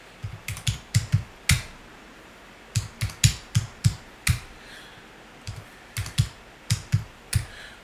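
Values are typed on a computer keyboard: quiet, close keystrokes come in short irregular clusters separated by brief pauses, with no voices.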